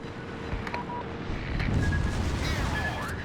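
Secondary guns of a German battleship firing in a naval combat video game, heard as scattered booms and pops under engine rumble and game tones, with a voice talking at times.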